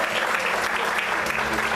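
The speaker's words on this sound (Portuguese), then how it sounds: "Aplauda o Senhor mais forte" Loud, dense applause from a church congregation, continuous clapping filling the whole moment with little else audible.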